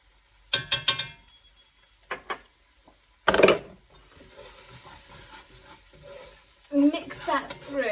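Paprika and smoked paprika are stirred into garlic frying in a pan on an AGA, heard as scattered scraping stirs and a loud sizzling burst. Quiet gaps fall between the sounds, and a faint voice is present.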